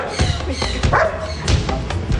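A security dog barks in short, sharp bursts during frontal attack training, several loud close barks with thumps between them against a busy background.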